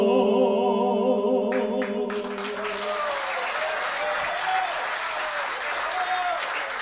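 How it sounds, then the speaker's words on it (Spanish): A sung ballad performance ends: a held musical chord fades out over the first seconds as an audience breaks into steady, full applause that continues to the end. "Un aplauso a Ana, por favor."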